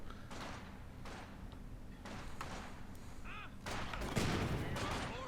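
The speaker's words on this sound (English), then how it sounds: "Maybe he got suppressed on his way out by the MG34." MG34 machine gun fire in Company of Heroes 2 comes through as bursts of rattling shots and thuds under steady battlefield noise, with a caster talking over it.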